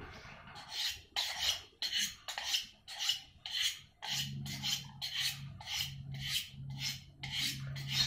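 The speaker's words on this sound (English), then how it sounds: "Stainless steel, which this blade is made of, is probably one of the hardest to sharpen" A stainless steel kitchen pen-knife blade is drawn over a sharpening stone in a steady series of about a dozen rasping strokes, close and fairly loud, with a low hum joining partway through.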